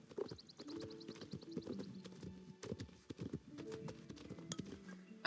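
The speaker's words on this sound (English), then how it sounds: "We go up here with our horse." Horse hooves clip-clopping in the video game Star Stable, a brisk steady rhythm of close hoof beats over soft game music and chimes, no talking.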